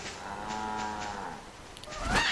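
Sheep bleat in the video game Lightning Returns: Final Fantasy XIII, drawn-out, moo-like cries heard clearly with a short burst of other game sound at the end. No one speaks.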